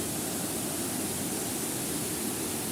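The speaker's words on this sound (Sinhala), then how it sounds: "මේ ඇල්ල වැටෙන එක." A waterfall at Kalabokka plunges into a deep pool, producing a loud, constant broadband roar of falling water heard up close with no voices.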